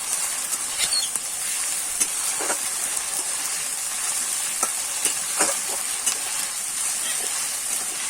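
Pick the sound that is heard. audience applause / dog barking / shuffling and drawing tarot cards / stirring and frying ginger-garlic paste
stirring and frying ginger-garlic paste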